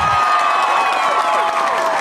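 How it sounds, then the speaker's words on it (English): A dense crowd at an outdoor street gathering roars with sustained cheering and whooping, loud and continuous for the whole moment with no clear pauses. "Listen to the cheers of these sick fucks"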